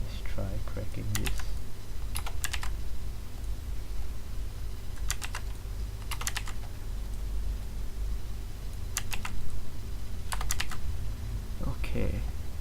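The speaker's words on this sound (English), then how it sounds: "Okay, so we're typing the captcha." Short bursts of computer keyboard typing come in several clusters of quick clicks over a faint steady hum, as a captcha is entered during a hash-cracking demonstration.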